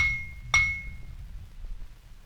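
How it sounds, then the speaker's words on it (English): A single bright clink of a water-filled glass being tapped, ringing with a clear pitched tone that fades over about half a second, then low background rumble. "the more water in the glass, the lower the notes?"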